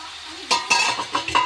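Meat frying in a pan on a gas stove in a home kitchen. A soft background sizzle sits under several loud, close clinks and scrapes of a utensil stirring against the pan, with no talk.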